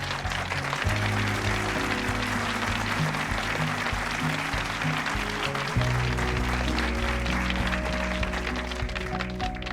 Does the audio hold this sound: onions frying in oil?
no